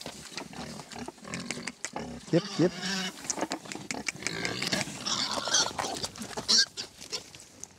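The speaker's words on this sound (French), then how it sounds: "La truie." A sow grunts and snorts on a mountain summer-pasture farm, close and irregular, with rough squeals among the grunts as a person speaks briefly nearby.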